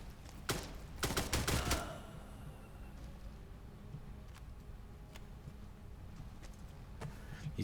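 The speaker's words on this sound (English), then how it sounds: "Where am I being shot from?" Gunfire in the Cold War horror game Shadow Project, a quick cluster of sharp shots early on and then sparse faint clicks and pops over a quiet background.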